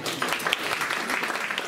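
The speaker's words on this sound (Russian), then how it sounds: "Хлопайте тем, у кого все хорошо." Concert audience clapping for an orchestra, a brief burst of many hands applauding together at moderate loudness, dense and even with no voices on top.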